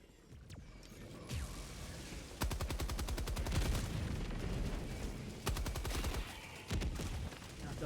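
Heavy rapid gunfire and booming impacts from a Helldivers 2 battle, with bursts of fast repeating shots and deep blasts recurring over several seconds amid a constant rumbling background.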